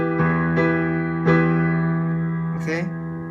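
A piano plays a slow chord pattern, sustained chords struck one after another at a deliberate pace, with a few separate attacks ringing and decaying, closely miked and clear, no talk.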